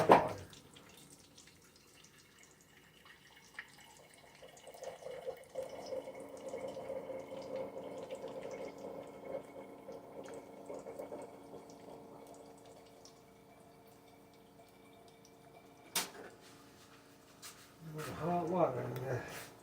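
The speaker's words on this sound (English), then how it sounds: "Let me get some water out of the dispenser." Hot water running from a kitchen water dispenser into a container, a soft steady trickle that lasts several seconds and then stops, with people talking nearby.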